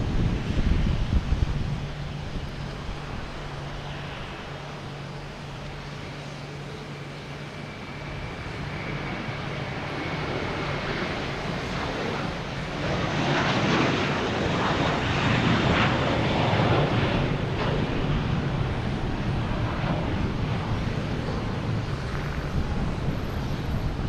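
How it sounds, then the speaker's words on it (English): An American Airlines Airbus A321 taking off from Boston Logan bound for Dallas-Fort Worth rumbles with a sustained jet roar that swells midway, partly masked by gusting wind noise on the microphone. "You have American Airlines taking off, an A321 heading to Dallas-Fort Worth"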